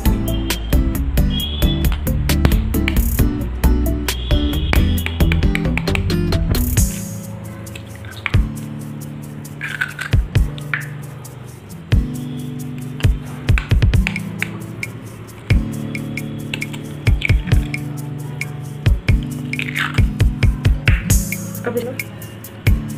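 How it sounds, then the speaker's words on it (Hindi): Chicken pakora batter with eggs and paste being stirred by hand, giving wet squishing and sloshing sounds in bursts, with music playing loudly in the first part and faint background sound between strokes. "अच्छी तरह से मिक्स कर लेंगे इसको।"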